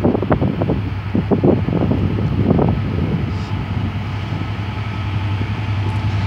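Freightliner Class 66 diesel freight locomotive 66415, in new Freightliner livery, passing through Eastleigh station on the South Western Main Line with a steady low rumble and wind noise throughout, fairly loud and continuous, with no talk.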